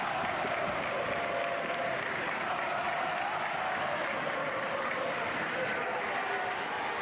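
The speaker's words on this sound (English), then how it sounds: "you start to hear the Titans fan base begin to roar." Home fans roar and cheer at a high school boys' basketball super-sectional playoff game in a gym, a dense, sustained wash of crowd noise under an announcer's commentary.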